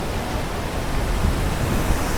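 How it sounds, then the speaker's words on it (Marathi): Kalu waterfall in Maharashtra pours into a swollen river with great force, a loud, dense and unbroken roar of rushing water at close range. "पाहू शकता खूप जास्त पाणी आहे आणि वरून पहा किती प्रेशरने पाणी पडतंय"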